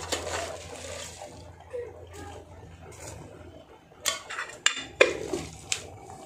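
A metal spoon clinks and scrapes against cups as sugar goes into three cups of coffee in a home kitchen, with sharp ringing taps clustering near the end over soft background noise.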